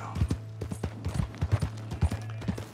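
Hooves clip-clop in a quick, even rhythm as a horse is ridden in the video game Red Dead Redemption 2, close and distinct against a low steady hum.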